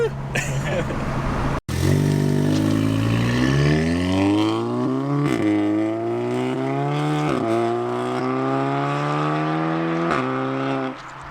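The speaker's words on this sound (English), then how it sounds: "We'll do maybe another flyby." A big-turbo 500 hp Audi S3 accelerates hard and loud through several rising gear pulls, each shift marked by a sharp break, as it passes nearby before the sound cuts off.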